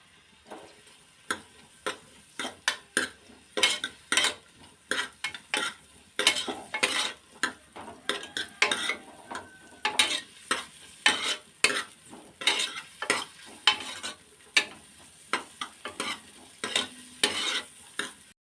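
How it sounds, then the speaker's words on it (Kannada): Tempering spices crackling and popping in hot oil in a pan for sambar, sharp irregular bursts over a quiet background, fairly close. "ಇದು ಒಗ್ಗರಣೆ ಸ್ವಲ್ಪ ಚೆನ್ನಾಗಿ ಫ್ರೈ ಆಗಲಿ"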